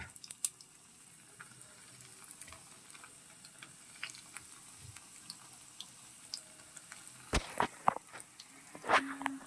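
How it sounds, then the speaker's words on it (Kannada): Bread pieces fry in a pan for paneer ghee rice, giving a faint, steady sizzle with scattered small crackles and ticks. A few sharper clatters near the end sound like a utensil moving in the pan. "ಸೊ ಇದನ್ನು ಸ್ವಲ್ಪ ಫ್ರೈ ಮಾಡ್ಕೊಳ್ಳೋಣ"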